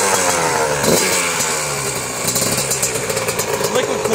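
Yamaha YZ 85 liquid-cooled two-stroke dirt bike engine idling as it warms up, a steady rough putter with slight swells in speed, loud and close, with someone talking over it.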